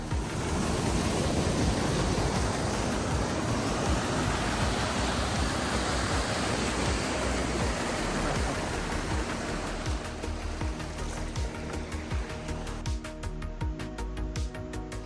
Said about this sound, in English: we have a creek crossing. This is flowing heavily after the rain from yesterday.